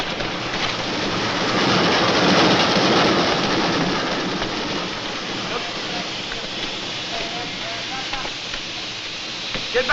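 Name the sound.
train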